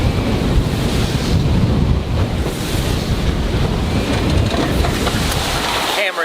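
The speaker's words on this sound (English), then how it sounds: "there's some good 8-foot, 9-foot waves out here occasionally" Rough ocean waves of 8 to 9 feet rush against a boat heading into the wind, with loud, continuous wind buffeting the microphone and a constant roar of water.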